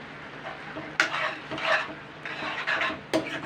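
Raw papaya chutney is stirred with refined oil in a pan, giving scraping spoon strokes in uneven bursts over a soft sizzle, close and moderately loud, with no voices.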